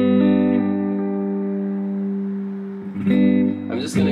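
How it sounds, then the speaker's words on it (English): A guitar on both pickups through a Spark 40 amp with heavy delay and echo, a held chord ringing and repeating as it slowly fades, followed by a couple of fresh strums near the end. "you hear there's a lot of delay and echo on this setting"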